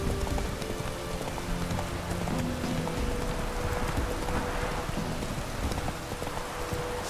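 Rain pours steadily in The Witcher 3 game world, a dense, even hiss of drops on surfaces with faint hoof clip-clops from a horse beneath it, continuous throughout with no talking.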